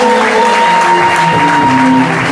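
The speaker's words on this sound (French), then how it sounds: "Applaudissons fort le Seigneur." A church congregation claps loudly for the Lord during a sermon, dense sustained applause mixed with a held organ or keyboard tone and voices, full and close throughout.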